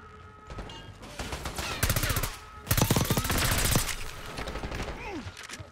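Rapid automatic gunfire from Call of Duty: Black Ops 6, with two dense loud bursts of closely spaced shots amid ongoing combat noise and scattered background effects.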